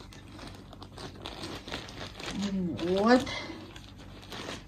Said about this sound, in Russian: Я покладу их вот в такой пакетик, вот такой с зайками.